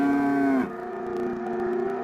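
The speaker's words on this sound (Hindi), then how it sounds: "ये आवाज सुनते ही बैल जोर जोर से रंभाने लगे" Bulls lowing loudly at night in a rural forest setting during a rainy night; one long, strong bellowing call breaks off and is followed by lower, sustained mooing tones.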